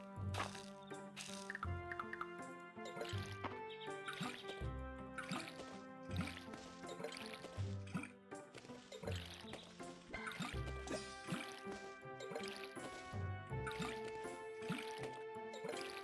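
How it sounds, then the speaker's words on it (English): Crops are watered in a cozy farming video game, with repeated splashing and pouring water effects over soft tonal background music. "also need to water my crops"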